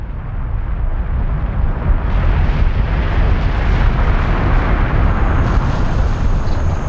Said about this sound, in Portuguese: as explosões começaram